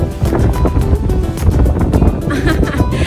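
Steady wind buffets the microphone with a low, continuous rumble and rushing noise, loud and close throughout, without clear speech.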